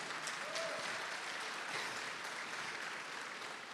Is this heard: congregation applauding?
yes